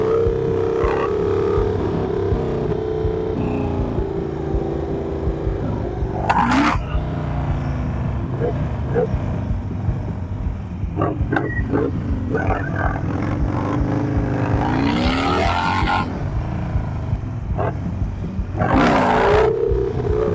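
A Harley motorcycle running on 50 psi of tire pressure, revving for a wheelie during stunt practice, its engine droning continuously and close with a couple of sharp throttle surges and roars.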